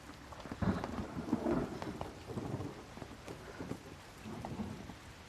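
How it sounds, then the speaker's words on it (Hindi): Sudden rain with rumbling thunder, a soft wash of falling drops and low, rolling booms coming and going, fairly quiet and with no voices. "अचानक से बारिश आ गई।"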